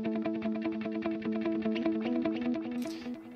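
Guitar notes played through a Waves H-Delay set to dotted eighths, half original signal and half delay, each pick followed by rhythmic echoes that build into a steady, shimmering pulse, with no talking.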